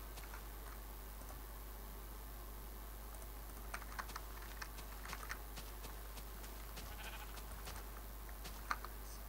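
Sheep in the Minecraft video game give a few faint, scattered bleats over soft, continuous computer keyboard typing and a low steady hum.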